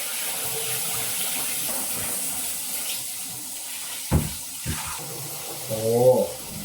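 Water runs from a lowered shower head in a home bathroom during a toilet repair, a steady soft hiss with a couple of brief knocks and splashes near the end.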